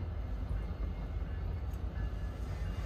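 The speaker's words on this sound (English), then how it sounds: "I hear a train going by" A train passes in winter near downtown Vermont, heard as a low, steady rumble with a continuous roar, moderate and fairly distant, with faint sounds around it.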